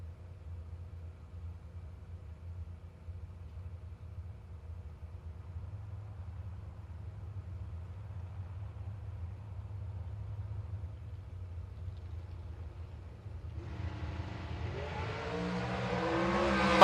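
Dragster at a drag strip idling with a low, steady rumble, then a loud revving launch near the end as the engine note climbs sharply.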